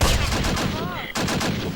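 An MG42 machine gun fires in a World War II tactical video game. Steady, dense automatic bursts run through nearly two seconds, with a brief whistling tone partway through and a short gap before the firing resumes.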